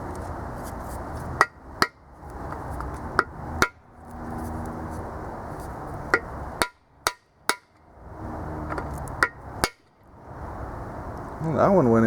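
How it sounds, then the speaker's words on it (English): Several sharp metallic hammer blows ring out at uneven intervals, some in quick pairs, hammering an expansion plug into a small block Chevy engine block, close and loud over a steady low hum. "let's see if we can hammer it in there."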